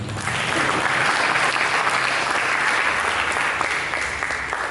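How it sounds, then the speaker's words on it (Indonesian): A church congregation claps together in steady, dense applause, loud and sustained without pause from start to finish, with no voices standing out. "Mari kita tepuk tangan"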